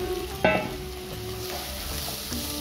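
Spiced fish curry masala with fried potatoes is stirred in a pan, with one sharp scrape of the spoon early on over a close, continuous sizzle.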